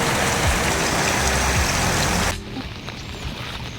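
Heavy monsoon rain roars in a dense, loud downpour, then cuts off abruptly to a much quieter background.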